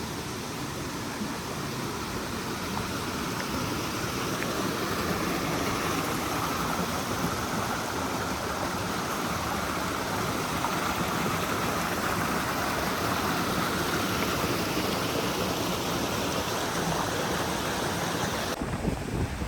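A stream on Kauai island rushes steadily, a dense, even wash of flowing water close by with no pauses, continuous for the whole stretch.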